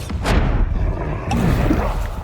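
Bombarda blasting spell from the Hogwarts Legacy video game, a loud close explosive boom with a rumbling tail and a second burst about a second later.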